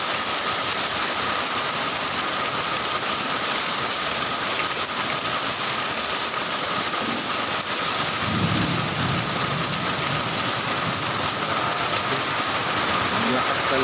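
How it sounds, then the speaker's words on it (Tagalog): Heavy rain pours down in a constant, dense roar throughout, with a low rumble of thunder swelling faintly in the background partway through. "Lakas talaga ng ulan mga boss."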